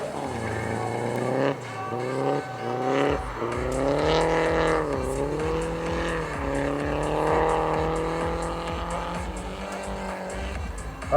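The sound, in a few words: rally race car S14 driving past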